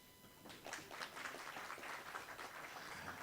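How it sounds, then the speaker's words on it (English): Audience applause at an Earth Hour presentation, a sustained patter of many hands clapping at a fairly even level, soft and somewhat distant. "Round of applause please."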